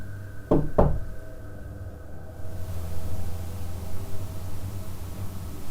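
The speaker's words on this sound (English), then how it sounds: "Can you give us 2 knocks?" Two sharp knocks land in quick succession near the start, followed by a quiet hiss and low hum for the rest of the clip, with no voices.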